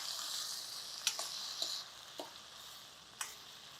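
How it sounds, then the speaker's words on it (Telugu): Chopped red tomatoes frying with onions in a pan for masala kichidi, a steady soft sizzle with a few light clicks and stirring taps scattered through it. "ఓ 2 ఎర్రటి టమాటాలు వేసేయండి"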